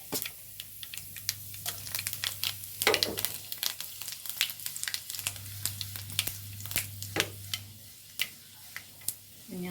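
Dried red chillies frying in hot coconut oil, a soft sizzle punctuated by sharp, irregular pops and ticks, close by over a low background hum.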